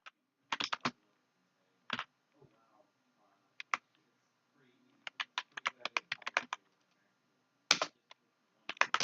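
Terminal commands are typed on a computer keyboard in quick clusters of crisp keystrokes with pauses between bursts, while a voice talks quietly underneath.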